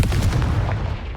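In Hogwarts Legacy, a Confringo spell detonates as a heavy, booming blast, loud and close, with a low rumbling decay that carries through the short moment.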